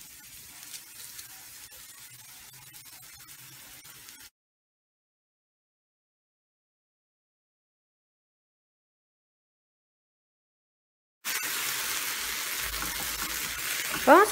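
Chopped onion frying in a pan with oil for a vegetable dish: a steady hiss and crackle that stops in silence, then returns as a brighter, louder sizzle.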